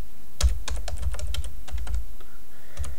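Password being typed on a computer keyboard while setting up an account in a Mac OS X Mavericks virtual machine: a quick, uneven run of close, distinct key taps with short pauses between them and no talking.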